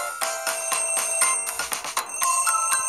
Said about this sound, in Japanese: 電話鳴らす。